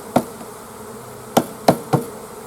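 Bees buzz faintly around a honey frame as it is tapped to knock them off, with four sharp knocks, one early and three close together later, over a soft steady hum.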